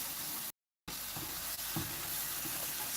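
A nettle omelette fries in a pan with a steady, close sizzle, interrupted by a brief moment of silence and a few soft knocks of a utensil against the pan.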